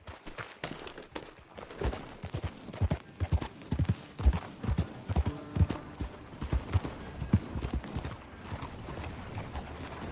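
Horse hooves clip-clop in Red Dead Redemption 2, a quick, rhythmic run of close thuds over dirt that builds and keeps a steady trot pace, with a brief neigh.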